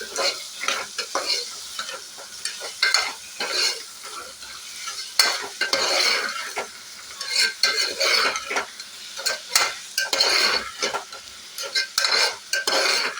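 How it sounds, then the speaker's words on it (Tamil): Potatoes and vegetables being stirred as they fry for sambar, a spoon scraping and clinking against the pan in a busy, continuous rhythm over sizzling oil. "நான் 2 உருளைக்கிழங்கு சின்னதாக எடுத்து ஆட் பண்ணுறேன். இதை நல்லா மிக்ஸ் பண்ணிக்கலாம்."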